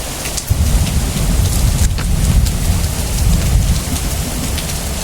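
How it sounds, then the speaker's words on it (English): Steady heavy rain pours outdoors with deep low rumbles of booming thunder rolling underneath, loud and continuous throughout with no voices. "I want you to hear the thunder. It's just booming."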